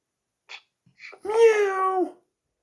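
A person's voice imitates a cat's meow, a single drawn-out tonal call preceded by a few faint breathy sounds, close and otherwise quiet.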